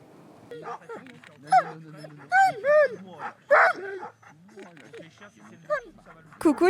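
Sled dogs whine, yip and give short barks in an irregular series at a mountain site, some cries close and loud, others fainter, with brief pauses between bursts.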